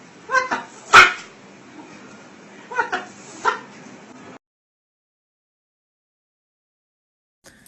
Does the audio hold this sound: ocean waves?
no